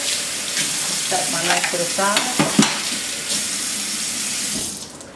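Tap water runs steadily into a sink to rinse off rib tips being prepared for charcoal grilling, a loud continuous splashing rush that fades near the end, with someone speaking briefly over it.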